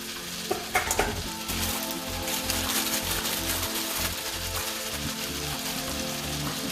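Duck-breast meal vegetables, firm pieces first and then snap peas, sizzle and fry in a hot pan with salt and pepper. A steady, dense crackle runs close and loud throughout, with a few clatters of stirring near the start and no talking.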